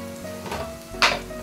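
A spoonful of gram flour (besan) is roasted in a pan with yogurt and capsicum, giving a soft, quiet sizzle and a brief scrape of stirring.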